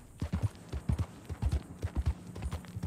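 Horse hooves clip-clop at a steady walking rhythm in Red Dead Redemption 2, close and clear with light background game ambience.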